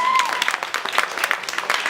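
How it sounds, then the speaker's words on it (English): Brief burst of lively clapping from a poetry-event audience for a poet who also sang, many hands close and dense, with a voice trailing off at the start. "Let's give her another round of applause."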